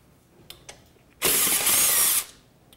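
A power tool spins out a bolt from the throttle body on a Honda Civic, with one loud, steady whir of about a second, preceded by a couple of faint clicks.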